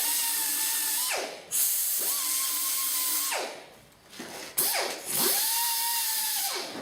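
A pneumatic air tool polishes the bolt carrier of a WASR AK-47 rifle, giving a loud, steady high whine in several long bursts that spin down and rev back up, with no talking.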